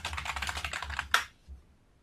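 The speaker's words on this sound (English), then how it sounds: "Whoever's typing, can we go on mute?" Rapid keystrokes on a computer keyboard clatter in a quick, uneven run during an online meeting, closing on a sharper final tap and a softer click before quiet.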